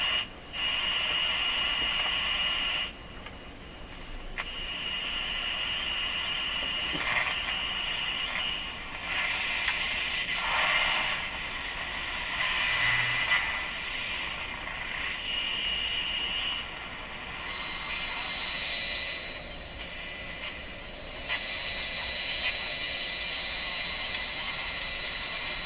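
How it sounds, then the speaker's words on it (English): A Canadian Westinghouse Model 512 tube radio picks up a station faintly through steady hiss and hum. Whining tones drift and shift as the dial is worked, with no clear voice coming through. "Okay, we hear the station."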